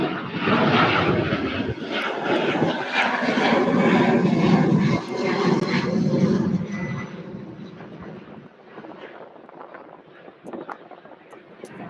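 Loud, roaring jet engines of an MD-11 airliner on the runway at Louisville airport, a broad rumbling whoosh that swells over several seconds and then fades away, with wind buffeting the microphone and faint voices underneath.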